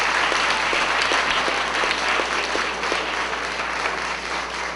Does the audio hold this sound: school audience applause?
yes